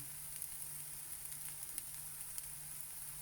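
Cheese and chilli potato cakes sizzle steadily in a pan of oil, a soft, even crackle with faint pops scattered throughout, close and quiet with no voices.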